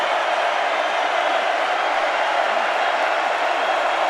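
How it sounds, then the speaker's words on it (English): Crowd noise at a Rice vs Texas college football game, a dense, even roar from the stadium that holds steady the whole time with no breaks. "You hear the crowd in it."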